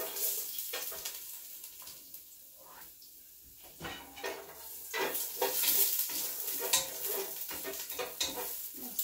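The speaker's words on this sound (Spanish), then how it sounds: "vamos a freír los ajos con los hongos y la cebolla" Garlic with mushrooms and onion fries in a pan, a soft sizzle broken by clattering stirs and scrapes of a utensil against the pan, growing busier in the second half.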